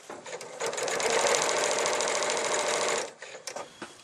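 An Elna 6200 Swiss computerized quilting sewing machine stitches in a steady, fast whirring run for about two and a half seconds, preceded and followed by a few light mechanical clicks and taps.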